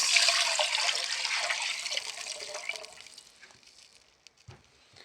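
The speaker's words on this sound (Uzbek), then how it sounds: "Endi suvni solamiz" Water is poured into a pot of onions fried in oil, a strong splashing rush that gradually thins to trickles and a few drips.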